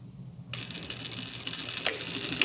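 A sewing machine back-stitching and then running along the waist seam of a pair of jeans. It starts after a short quiet moment with a close, steady mechanical whir and a few sharper clicks, and no one talks.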